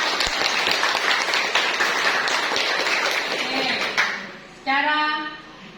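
Classroom applause rises as a dense wash of clapping from many hands for several seconds, fairly close, then fades into a teacher's voice speaking.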